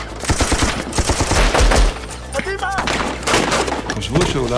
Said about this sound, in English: there was terrorists shooting us, and there was exchange of fire